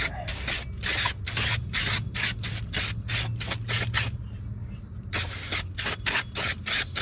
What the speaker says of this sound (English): Give a little bit of carb cleaner.